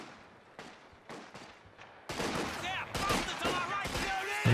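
Machine gun fire from a Company of Heroes 2 battle rattles in bursts: a few separated shots first, then denser overlapping gunfire mixed with explosions and unit voice lines, growing louder toward the end.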